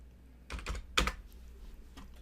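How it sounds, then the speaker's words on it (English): Keys tapped on a computer keyboard in a few short clustered bursts, with a sharper clack near the middle, fairly close and alone without talk. "All right, let me just type that in."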